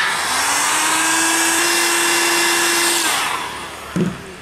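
Heat gun or hair dryer blowing steadily on a plastisol underbase printed on cotton fabric for DST transfer, a loud continuous whir that cuts off near the end, followed by a brief clunk.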